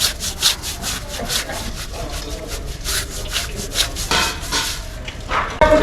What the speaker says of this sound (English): After that, I'll rub it through a brush.